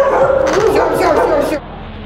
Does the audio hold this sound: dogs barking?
yes